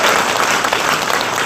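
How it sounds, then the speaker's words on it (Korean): An audience claps together at a Korean political rally and talent-recruitment lecture in Daegu, a dense, steady burst of applause that stays loud and even for its whole length. "박수 한번 주시죠"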